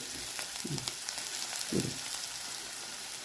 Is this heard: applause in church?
no